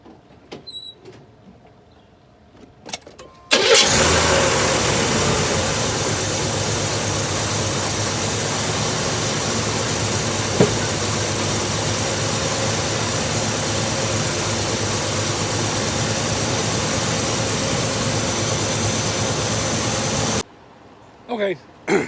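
A 1985 Chevrolet S10 engine cranks briefly, catches and settles into a steady, fairly loud carbureted idle that holds for many seconds, then cuts off, with faint sounds before the start.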